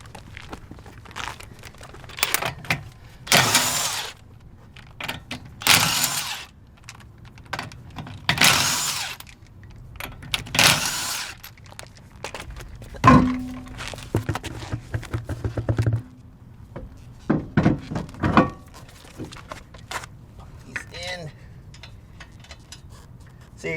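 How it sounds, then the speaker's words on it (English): An impact wrench on a low setting fastens lug nuts on a Miata wheel, firing several short, sharp rattling bursts spaced a few seconds apart, close up, with clanks and handling noises in between. "what I like to do is keep the impact at a low setting when I put them in"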